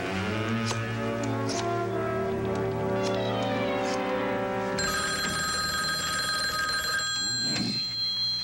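Telephone ringing on an outgoing call, with repeated electronic ring tones in steady bursts, then a different higher-pitched tone joins in partway through, close and clear.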